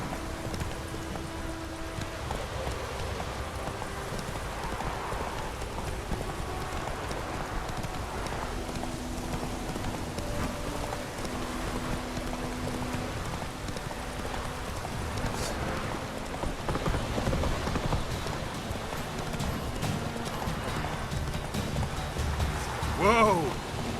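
Horse hooves clip-clop steadily while riding in The Witcher 3, a continuous rhythmic trot under ambient noise, with brief talk near the end.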